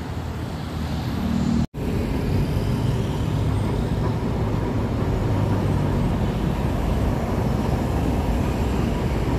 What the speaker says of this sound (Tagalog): may papapansin tayo mga tropa na train na dumadaan. So ito ay 4th generation na train ang dumaan